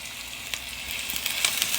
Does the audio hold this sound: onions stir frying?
yes